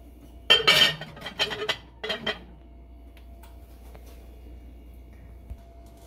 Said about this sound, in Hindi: अब मैं अपना मीठा चेक कर रही हूँ और उस पर लिड लगाऊंगी।